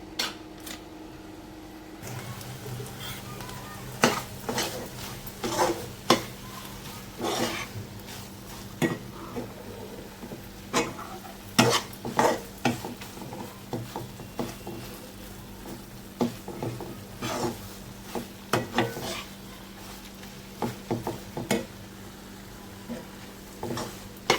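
Jaggery melting in a pan over medium gas heat, stirred with a utensil: repeated close scraping and clinking knocks against the pan over a steady low hum, irregular in rhythm, with no talking.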